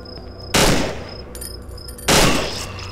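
Gunfire in the horror video game Cry of Fear: two loud, close shots about a second and a half apart, each with a long ringing tail over a faint background hum, no talking.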